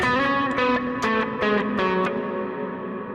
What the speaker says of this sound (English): it gives like a negative shimmer reverb